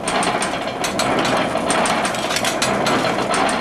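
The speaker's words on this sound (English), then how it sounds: "And the drying oven is working too. That's that loud noise." Drying oven running in a sardine cannery museum, a loud continuous mechanical clatter with rapid ratchet-like ticking throughout, no talk.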